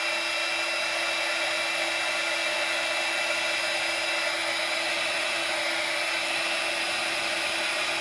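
A heat drying tool blows on a coffee mug craft piece, making a constant loud, high-pitched whirring hiss that holds steady and close throughout.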